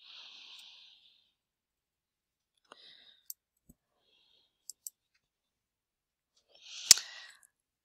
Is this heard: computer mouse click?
yes